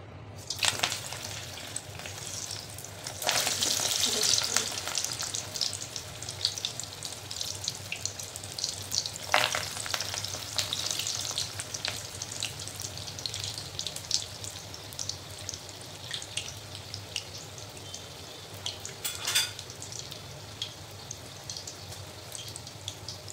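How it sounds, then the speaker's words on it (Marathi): Vadi fritters frying in hot oil for a no-onion, no-garlic festival platter, with a steady broadband crackle and hiss running throughout and a few brighter bursts as pieces go in, no talk. "तर आता अगोदर वडी तळून घेऊ।"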